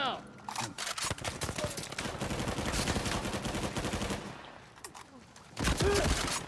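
Gunfire in Uncharted 4 multiplayer: sharp rapid shots and automatic bursts crackle nearby and fairly loud, a dense volley in the middle and another burst at the end, with a player talking over it.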